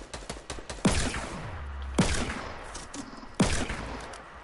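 Gunshots in the video game Fortnite during a tournament match: a quick spatter of shots, then three loud, sharp blasts about a second apart, each trailing into a short echoing tail, with no talking.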